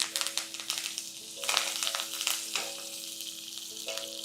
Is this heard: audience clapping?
no